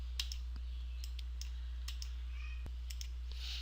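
Faint, sparse clicks from a computer mouse, spaced irregularly over a steady electrical hum, with no talking.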